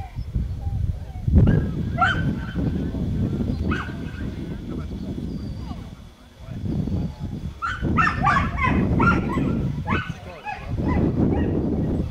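A sheepdog barks and yips repeatedly at a ewe, with some whimpering, over a busy background of rustling and movement; sharp bursts cluster in the second half.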